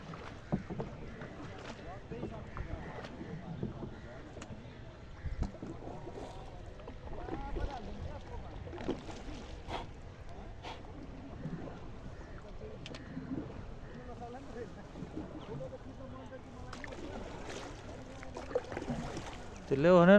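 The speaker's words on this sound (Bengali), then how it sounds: "ফিওয়া লেকে আমরা বোট ড্রাইভিং চলে।" A boat travels across Phewa Lake, a low, soft engine and water rumble running throughout with faint wind noise, while people talk quietly over it.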